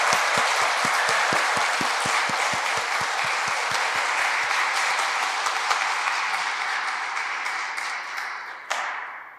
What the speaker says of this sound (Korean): 여러분 큰 박수로 환영하시겠습니다.